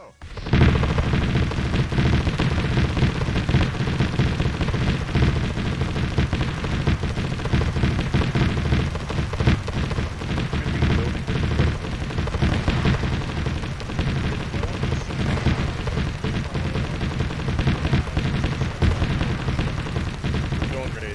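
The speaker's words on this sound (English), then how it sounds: "Oh, they're shooting through the walls again." Enemy gunfire coming through the walls in a video game, a continuous dense rattle of shots and impacts that holds steady and loud for the full length without letup.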